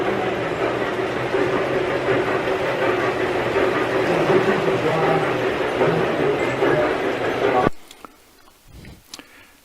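A G gauge model train rumbles steadily along its track nearby in a transportation museum, with a continuous clattering hum that cuts off abruptly near the end, while people talk over it.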